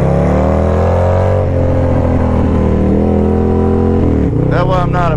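A motorcycle accelerating hard in first gear roars loudly and close throughout, its engine note straining and then climbing sharply in pitch near the end.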